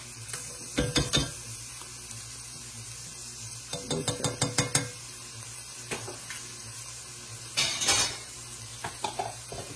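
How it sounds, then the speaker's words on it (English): Onions and minced garlic sautéing in a pan, with a low sizzle under repeated bursts of a utensil scraping and clattering against the pan, the stirring coming in quick clusters close by. "you saute this until the onions become translucent"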